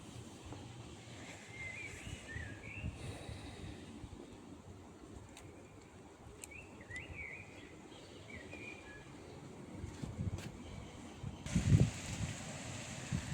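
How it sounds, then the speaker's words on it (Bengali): Wind gusts across a balcony vegetable garden in the Netherlands, a faint steady whoosh with soft buffeting and a few distant bird calls, swelling louder near the end. "বাতাস"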